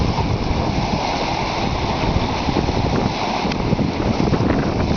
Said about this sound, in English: Helm's pretty well balanced and the boat's moving along quite nicely.